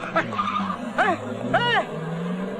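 A car speeds off with three sharp tire squeals in quick succession, rising and falling, over an engine drone and background voices.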